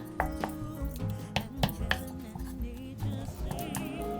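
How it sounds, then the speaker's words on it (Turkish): Butter being mashed with a wooden spoon in a bowl, a series of irregular dull knocks and scrapes close up, with faint background music underneath. "Tahta kaşıkla güzelce tereyağımızı ezelim."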